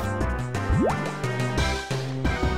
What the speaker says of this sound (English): we're gonna start off with a Water Gun